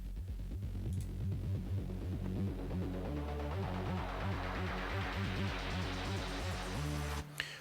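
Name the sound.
synthesizer riff from a Serum patch with saw wave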